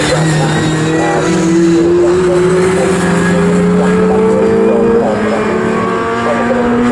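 Mini Miglia and Mini Libre racing cars at Snetterton circuit roar past at full throttle, their engines droning loud and continuous with rising pitch as they accelerate by, while a commentator talks over the noise.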